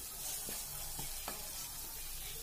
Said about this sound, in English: so my green chilies are also getting fried.